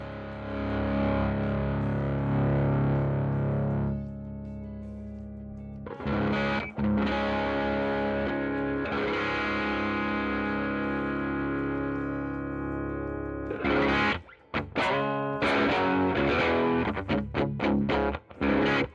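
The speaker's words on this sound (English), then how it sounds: "This particular pedal here, the Benson preamp, sounds great." Electric guitar played through a Benson preamp pedal straight into a speaker cab, heavily distorted sustained chords that cut off abruptly, then return with choppy stabs and short muted bursts toward the end.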